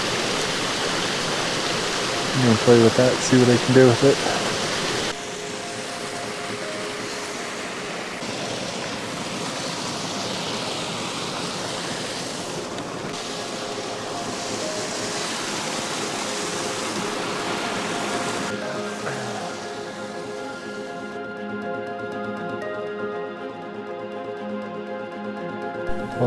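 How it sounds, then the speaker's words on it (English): A tiny waterfall splashes steadily outdoors on an off-grid camping trip, a soft continuous rush that plays on after a louder burst at the start, while someone talks briefly over it and a faint engine-like hum rises near the end. "Tiny little waterfall."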